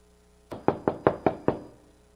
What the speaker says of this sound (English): there was a knocking at the door.